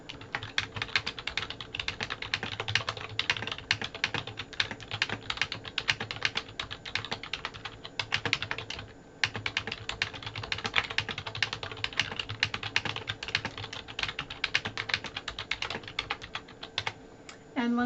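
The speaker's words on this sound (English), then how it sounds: "So I'm going to type something." Steady, rapid clatter of typing on a computer keyboard, heard close up, with one brief pause partway through.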